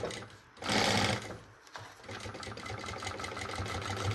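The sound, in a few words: sewing machine stitching synthetic fabric seam, maternity bag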